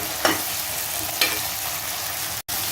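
Onion, tomato and ginger-garlic paste sautéing in oil, a steady close sizzle with two brief stirring scrapes and a short cut of silence near the end.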